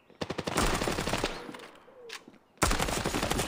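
Rapid automatic gunfire in the mobile shooter Standoff 2 comes in two loud, close bursts of fast, even cracks, separated by a quieter gap of faint game ambience.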